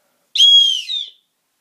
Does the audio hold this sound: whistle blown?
yes